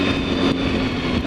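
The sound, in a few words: BMW S1000RR motorcycle engine during a clutchless shift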